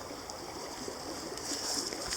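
Creek water flows and trickles over rocks in a steady, close wash with faint splashes, heard alone without talk.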